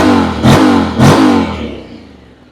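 Honda X-ADV 750 scooter with a stock engine, started and revved in two sharp bursts close by, each swelling then falling away into a fading idle with nothing spoken.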